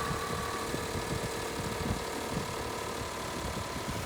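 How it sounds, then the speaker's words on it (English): A 2011 Smart car engine idles after a cold start in winter, a steady, fairly quiet, low rumble that holds evenly throughout, heard close with no talking. "Hasn't started in 2 weeks, let's start it up."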